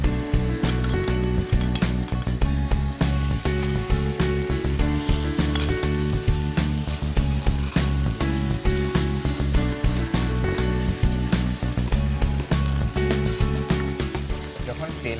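Raw chicken dropped into a hot pan in a restaurant kitchen sizzles loudly and continuously, with rapid crackling and occasional metallic clinks running throughout.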